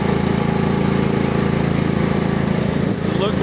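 A riding lawn mower engine runs steadily nearby with a constant pulsing drone that shifts slightly near the end.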